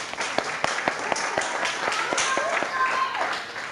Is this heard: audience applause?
yes